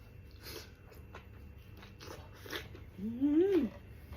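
Someone eating spicy Thai-Lao curry outdoors, with soft intermittent chewing and biting sounds close by, and a brief voiced murmur near the end.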